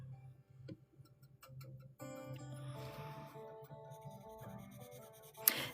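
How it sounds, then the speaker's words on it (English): A white charcoal pencil colors on paper close by, giving soft rhythmic scratching and rubbing strokes with faint taps, fairly quiet and without speech. "the Color white charcoal pencil."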